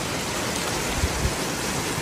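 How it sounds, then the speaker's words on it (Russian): Summer rain falls outdoors past open windows as a steady hiss of drops, with a couple of soft low thuds partway through and no voices. "Дождь, ура!"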